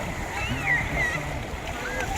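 Water splashes at a lake beach among swimmers, soft and fairly near, mixed with voices and general beach chatter throughout.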